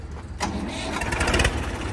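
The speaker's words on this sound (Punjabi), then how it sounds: "ਸਲਫ ਸਟਾਰਟਿੰਗ ਚੈੱਕ ਕਰਿਓ ਬਾਈ ਟਰੈਕਟਰ ਦੀ" A Mahindra tractor engine cranks briefly on its self-starter and catches, settling into a close, loud, rough running rumble within a couple of seconds.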